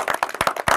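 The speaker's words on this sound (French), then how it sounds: "Alors est-ce qu'on peut applaudir pour Madame Kalonji?" A few people clap briskly and unevenly for under a second, close by, with no voices.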